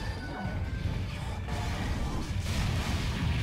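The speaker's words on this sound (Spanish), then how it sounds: "Oh, la mega explosión" A continuous roaring, crashing explosion blast with rumbling debris in Monster Hunter Generations Ultimate, loud and dense for the whole stretch, with no talking over it.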